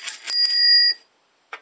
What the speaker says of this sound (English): Does that work? Or is that bell I put on?